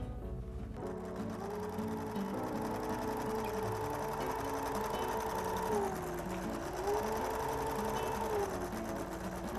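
A sewing machine stitches a scarf with a steady, continuous mechanical whir and rapid needle chatter that runs close and even throughout.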